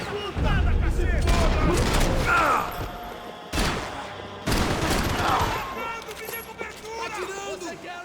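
Bursts of rapid gunfire in the video game Max Payne 3 crackle through, mixed with shouting voices and mechanical clatter, loud and close, pausing briefly before resuming.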